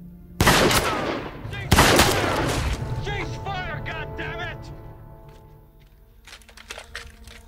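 Two loud rifle shots crack close by in The Pacific episode 9, then battle noise and shouting voices fade into quieter background with distant rumble.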